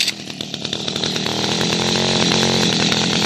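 A small two-stroke engine, chainsaw-like, starts up and runs at a steady, loud buzzing idle, with sharp spluttering pulses in the first moments settling into a continuous drone.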